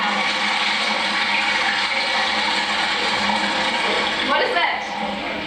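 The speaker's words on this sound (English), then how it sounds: "What is that? Flush toilet." A flush toilet roars with a dense, continuous rush of water, loud and sustained throughout, with a slight gurgling change near the end as the flow tails off.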